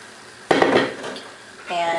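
Mini pasta, such as shells or ditalini, tumbles into a pot of boiling soup with a sharp clatter, then a ladle scrapes and knocks against the pot as it is stirred.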